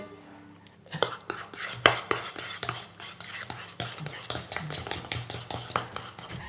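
Eggs being whisked into banana bread batter in a bowl, a run of quick clinking, scraping strokes with a utensil starting after a quiet second and continuing steadily, close by, with soft faint voices in the background.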